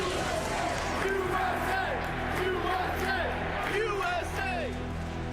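A large ballpark crowd at a baseball game on the night Osama Bin Laden was killed roars continuously, a dense wash of cheering with whoops and shouts rising through it, heard from within the stands.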